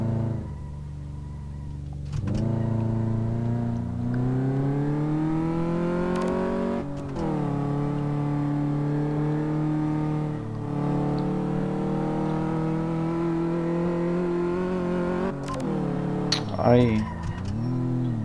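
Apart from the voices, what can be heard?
SUV driving and accelerating in video game Car Mechanic Simulator 2015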